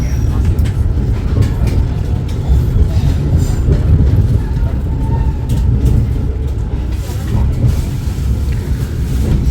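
Interior rumble of the Argo Merbabu passenger train pulling into Semarang Tawang station, Indonesia; a loud, continuous low-pitched roll with scattered clanks and rattles, steady throughout.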